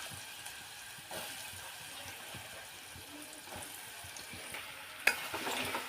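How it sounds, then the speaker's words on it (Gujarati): Pieces of chopped ridge gourd drop into hot oil for a Gujarati shaak, bringing a soft, steady sizzle with light stirring scrapes and a sharper clatter near the end. "હવે મિત્રો તેલ આવી ગયું એટલે નાખી દઈએ આ તુરિયાના કટકા સમારેલા તુરિયાના"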